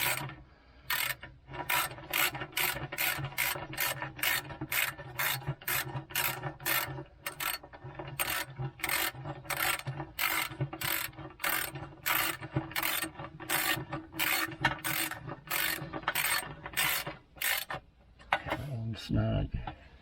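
A ratchet snugging transmission pan bolts, rapid close clicking strokes repeating steadily for about eighteen seconds, followed by a brief clatter at the end.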